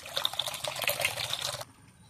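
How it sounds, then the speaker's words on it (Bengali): Hot water pours into flour in a bowl for kneading dough, a steady splashing trickle lasting about a second and a half before it stops. "এবার গরম জলটা দিয়ে দেবো"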